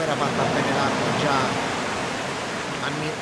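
Steady rushing water from the dam area in Resident Evil 0 Remastered, a continuous broadband wash like a stream or waterfall, fairly loud and unbroken throughout, with a voice talking over it.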